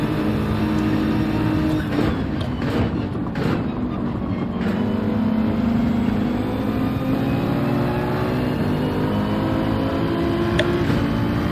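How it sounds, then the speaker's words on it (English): A race car's engine screams at high revs against the limiter in Gran Turismo 7, a loud, steady buzzing drone with a few choppy stutters early on before holding a sustained high-rpm whine. "Oops, hit the rev limiter again."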